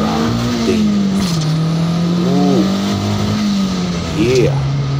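A turbocharged Honda D15b7 with a non-VTEC Delta 272 cam and a T3/T4 turbo accelerates at about 70–75% throttle, heard loud from onboard, the engine note climbing and dipping through gear changes, with a voice talking over it.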